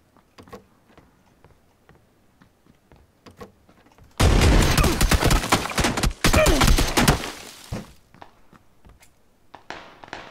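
Shotgun fire in the video game PUBG: a dense, loud burst of blasts lasting several seconds, with a short break in the middle, rising out of quiet ambience that carries faint clicks.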